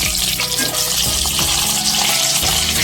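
Katla fish pieces frying together in hot oil for a Bengali doi katla, a steady close crackling sizzle with faint clinks of a utensil over low rumbling.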